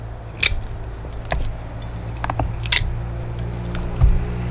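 Microtech Direc Delta OTF knife clicking repeatedly as the blade fires out and retracts, several sharp snaps close up over a faint steady background hum.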